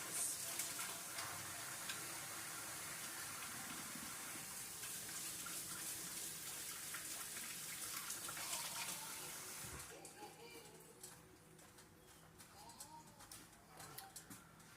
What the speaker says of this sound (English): Let me wash my hands, please.